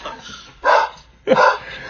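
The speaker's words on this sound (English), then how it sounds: "One Dogs are loose." Loose dogs bark twice, two short, sharp barks close by, separated by a brief pause, with quiet background between them.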